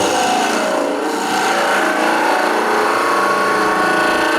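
Gouge taking a bevel-rubbing cut on wood spinning on a wood-turning lathe, a continuous loud, bright shearing hiss with a steady motor hum beneath.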